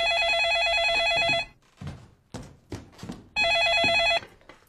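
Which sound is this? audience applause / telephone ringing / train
telephone ringing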